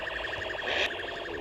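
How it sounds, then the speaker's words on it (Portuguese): A police siren in the video game GTA San Andreas wails, cycling rapidly in a fast yelp pattern, fairly close and steady, over a low background hum. "Ligada a sirene, pensei que ia enquadrar eu"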